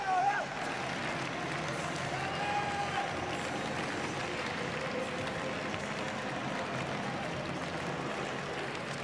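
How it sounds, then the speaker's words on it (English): Stadium crowd at the World Para Athletics Championships in London cheering on a thrower, a steady broad roar of many voices at moderate distance, with a commentator talking over it. "Plenty of kids in attendance today cheering him on."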